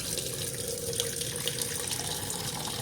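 Tap water runs steadily from a faucet to fill drinking water for pet dogs, a continuous close hiss and splash without pauses or voices.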